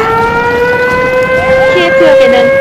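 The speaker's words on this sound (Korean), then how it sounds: "키예프역에는 공습 사이렌이 울리는 가운데" An air raid siren wails at Kyiv railway station during wartime, a loud sustained rising and falling tone with a voice speaking over it.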